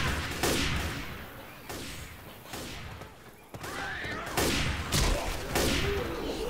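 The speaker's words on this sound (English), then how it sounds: "where in the hell you think you're shooting?" Gunfire in a Left 4 Dead 2 Realism Versus match: repeated loud shots and bursts fired in quick succession over a steady din of in-game noise.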